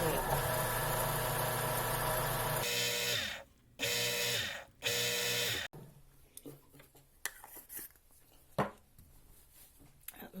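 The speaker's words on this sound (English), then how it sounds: "And then I will buff it on the buffing wheel." An opal ring pressed against a spinning buffing wheel, loud steady motor whine with the piece worked in short bursts, then cut off, followed by quieter handling clatter.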